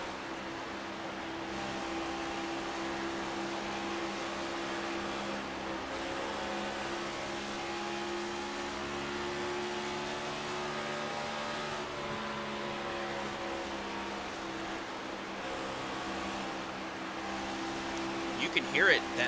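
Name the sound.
race car engine on and off throttle on top lane, iRacing video game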